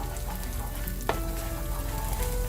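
Okra and eggs stir-frying in a pan with tomato, giving a steady close sizzle with a soft scrape of stirring near the middle, no voices.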